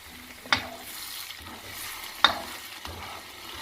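Ground spice paste for Manado-style rica rodo fries in a pan, giving a soft, steady sizzle broken by two sharp scrapes of a spoon as it is stirred.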